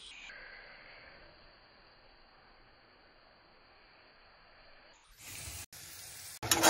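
Masala sizzles and fries in a pan for a Puri Aludom Odia-style dish, a steady low hiss with a faint tone running over it, before louder bursts of crackling and clattering near the end.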